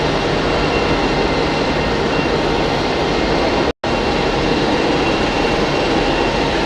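Aer Lingus airliner taxiing at Hamburg Airport, its engines making a loud, steady broadband roar with one momentary dropout.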